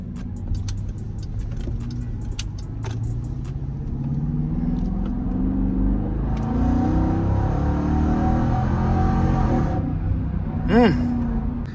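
A Dodge Durango R/T engine revs and pulls hard, rising harmonics climbing over several seconds before easing off, with a brief sharp rev near the end; someone talks at the start over a steady rumble.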